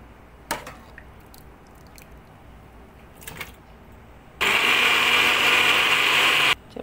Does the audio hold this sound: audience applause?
no